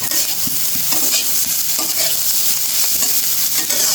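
Fish stir-fried in a pan, a steady close sizzle of hot oil with repeated scraping and stirring strokes throughout, no talking.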